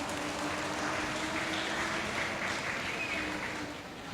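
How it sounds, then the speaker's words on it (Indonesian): An audience claps for an official at the opening of a pasraman jamboree in Jakarta, a dense, even wash of applause that holds steady and then tapers off at the end. "Mari kita beri aplaus kepada Pak Pembimas."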